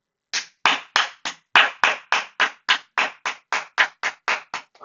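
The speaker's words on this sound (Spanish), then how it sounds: "Otro aplauso sentado." Sharp, close hand claps ring out one after another at a steady, slightly quick rhythm, about fifteen in all, with no talk.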